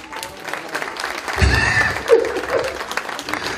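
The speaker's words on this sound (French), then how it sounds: "On applaudit pour le couple." Wedding guests applaud the couple at a celebration, scattered clapping of moderate loudness with crowd murmur and a few raised voices mixed in, swelling briefly in the middle.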